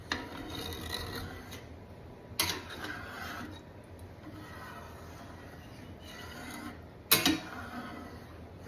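A potato masher crushes tomatoes and scrapes the bottom of a pan, giving faint, repeated rasping scrapes with a few sharper knocks, and no voices.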